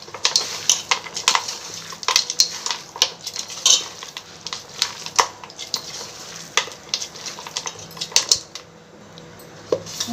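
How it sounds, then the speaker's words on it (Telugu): Puri muri mixture being stirred with ghee, heard as repeated close clinks and scrapes of a spoon against a pan in an uneven rhythm over a quiet sizzle. "ఇందులో 2 టేబుల్ స్పూన్ నెయ్యి కూడా యాడ్ చేస్తున్నాను. అంతా మిక్స్ చేసుకుంటున్నాను మెత్తగా."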